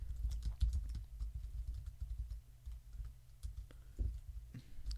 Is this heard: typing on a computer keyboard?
yes